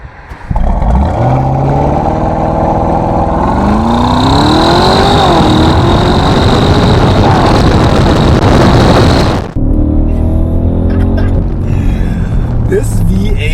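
An Audi SQ8 V8 engine under way, loud and close, a sustained rising roar as it accelerates, then cutting to a lower steady drone.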